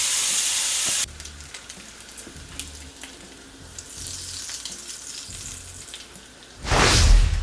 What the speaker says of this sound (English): I'm just gonna go in with a couple of pieces of bacon